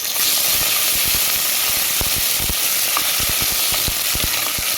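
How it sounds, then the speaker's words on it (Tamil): Tomato chicken rasam sizzles and hisses steadily in a pan in a village kitchen, a dense bed of frying noise with scattered sharp pops and crackles throughout. "இவ்வளோ மனம் தரும் இந்த ரசம் நல்லா வதங்கட்டும்"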